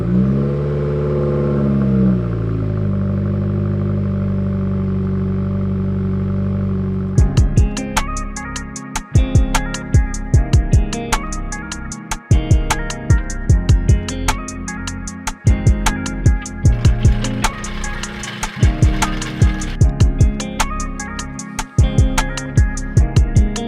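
A Subaru WRX engine cranks with a long low churning whir and then catches. It settles into a loud idle broken by repeated sharp revs and stutters, close and with no talk over it.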